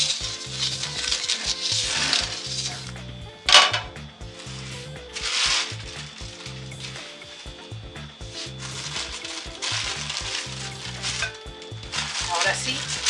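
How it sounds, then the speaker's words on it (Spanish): Onion sizzles on a hot comal griddle with a continuous crackling hiss, and a scraping sound of stirring comes and goes in a loose rhythm, close up, with no talking. "Si oigo que chilla, es que ya está bien caliente."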